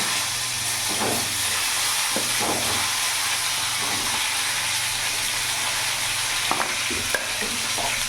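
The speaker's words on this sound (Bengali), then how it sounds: "এবার ওই তেলের মধ্যে আমি এখানে ফুলকপিগুলো ভেজে নেব।" Cauliflower florets fry in hot oil in a pan for a vegetarian paneer mixed-vegetable dish, a loud continuous sizzle and hiss close by with a few brief stirring knocks.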